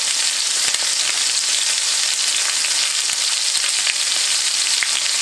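A steak sizzles steadily in a hot cast iron pan, a loud, even hiss of frying fat with scattered tiny pops throughout and no talking.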